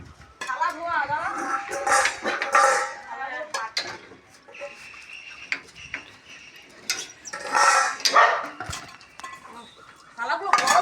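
Metal plates clatter and clink repeatedly while being washed, in irregular bursts of close, bright scraping and knocking, with people talking between them.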